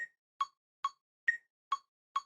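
A metronome clicks a steady beat, with six short, crisp ticks evenly spaced about half a second apart. Two of them carry a brighter accent pitch.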